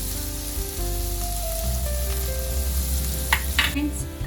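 Curry leaves dropped into hot oil in a pan sizzle and fry steadily for a few seconds while beetroot poriyal is being made, with faint stirring clatter near the end.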